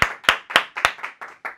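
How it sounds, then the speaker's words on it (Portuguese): Seven sharp hand claps in a steady, slightly slowing rhythm, close and fairly loud, each with a short decay and no talk over them. "salva de palmas para eles"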